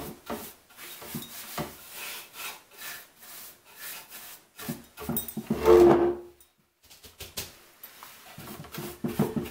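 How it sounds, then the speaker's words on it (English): Cloth rubbing wax onto a chalk-painted wooden table, producing rhythmic back-and-forth scrubbing strokes, close and fairly soft, with a brief squeak midway. "then just keep on applying your wax until your whole table is done."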